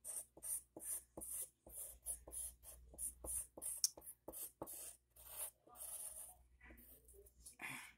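Pencil strokes on paper while sketching the tail of a shortfin mako shark, a string of short, soft scratchy bursts close up with brief pauses between them.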